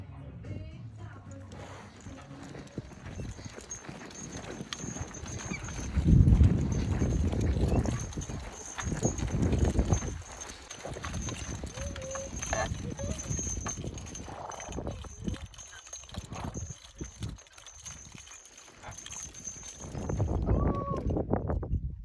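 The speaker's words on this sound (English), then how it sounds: "Out for a sleigh ride?" A horse's hooves clip-clop while it pulls a sleigh along a plowed snowy trail. The footfalls are soft and irregular, heard close by, with people talking over them throughout.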